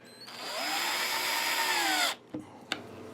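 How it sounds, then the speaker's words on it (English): While a guitar is built from bought parts, a power drill whines at steady high speed for about two seconds, then winds down and stops, followed by a couple of short bursts and clicks, with no voices. "I wouldn't recommend using a drill though if you don't use one every day like me"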